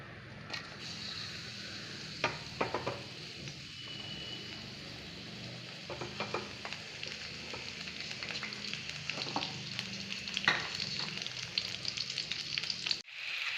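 Crushed shallots, garlic and curry leaves frying in hot coconut oil, a steady close sizzle with scattered crackles and pops throughout, no voices.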